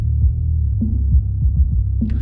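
Muffled, low-passed music with only a deep bass line and thumping kick drums left, no highs at all.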